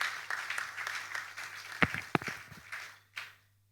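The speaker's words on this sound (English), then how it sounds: "Please, a warm round of applause for him." Audience applause after a Prime Minister of St. Kitts and Nevis is introduced at an Afri-Caribbean finance and investment panel, a moderate steady patter with a few sharper claps that fades out near the end.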